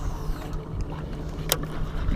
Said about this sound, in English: That boat just had to come through here